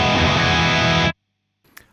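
A loud burst of distorted electric guitar through a Captor X+ load box in its bold shaper mode, a sustained chord that stops sharply after about a second, followed by a faint click.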